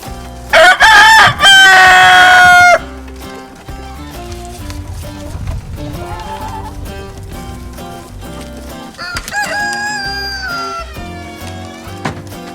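Chickens in a backyard, including white Delaware hens, cluck and call near and loud, and a rooster crows twice in sharp bursts at the start and again later.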